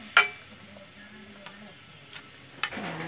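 Coconut milk cooking down into traditional Indonesian coconut oil, a quiet bubbling sizzle punctuated by a few sharp stirring clicks and pops.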